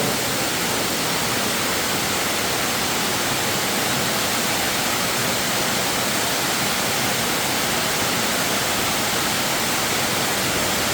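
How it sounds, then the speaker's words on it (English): Small waterfall of clean spring water inside an abandoned mine, a steady broadband rush of falling water that stays loud and unbroken throughout, with no voices. "I'm going to climb down this mini waterfall."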